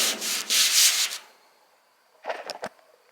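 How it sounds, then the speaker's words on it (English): Sandpaper scrapes back and forth by hand over wood on a boat in a few firm strokes, then pauses, followed by a few shorter rubbing passes. "It's easy to get tired of sanding"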